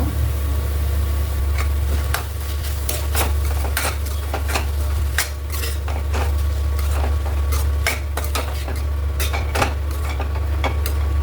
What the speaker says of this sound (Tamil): இப்போ நான் வடித்த சாதம் கொஞ்சம் அது கூட சேர்த்துக்கிறேங்க.